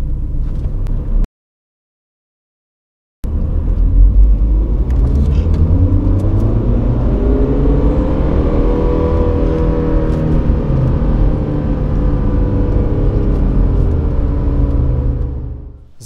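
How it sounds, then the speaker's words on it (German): BMW 120d with the N47D20 diesel launched at full throttle from standstill in second gear, a loud, close, rising engine drone that climbs steadily in pitch for over ten seconds after a brief gap, then eases off. "Jetzt gehe ich nochmal einmal in den 2. und gebe einmal Vollgas aus dem Stand."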